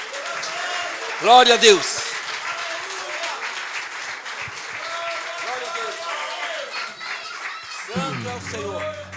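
A church congregation claps for Jesus during a men's worship service in São Paulo, a brief burst of applause under spoken praise, with a voice talking over it and music starting near the end.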